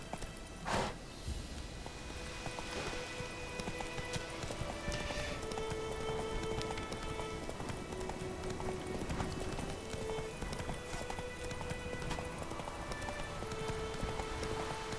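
Roach the horse galloping in Witcher 3, a steady rapid clip-clop of hooves carrying on for the whole stretch over a soft rain-like wash and faint game tones, with no talk.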